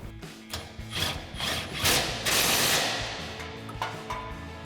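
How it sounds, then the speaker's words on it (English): A ratchet with a 21 mm socket and extension clicks as a bolt on a 2020-2026 Silverado 2500 leveling kit is tightened, with rapid close pawl clatter swelling in the middle and fading out. "Now we'll grab our 21 mil socket and extension, 21 mil wrench. We'll tighten the upper one down as well."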